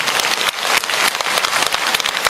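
Applause from a lecture audience at a Catholic priest's talk, a dense steady wash of many hands clapping at once, fairly close and loud throughout, with no voices over it.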